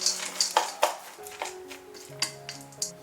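Chopped celery and crushed peanuts are stirred together in a bowl for Chaoshan radish cake, giving light clinks and scrapes at an irregular pace, close but fairly soft.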